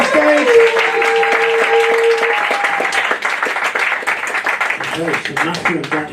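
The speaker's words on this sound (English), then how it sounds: "Give them all a huge round of applause as they make their way back up the stage." Audience applause at a London comedy show, a steady wash of clapping mixed with cheers and whoops that holds loud for several seconds before thinning out, with a voice coming through near the end.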